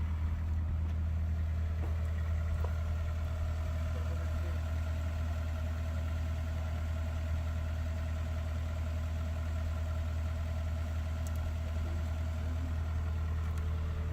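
A John Deere 50G mini excavator's engine runs steadily nearby, a constant low idling rumble with no change in pace and no talking.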